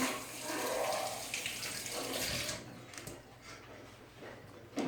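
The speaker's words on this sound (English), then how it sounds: "All right, wash my hands again." Hands being washed under a running kitchen tap while making a cake: steady rushing water close by for most of the moment, easing off and turning quieter near the end, with no voice over it.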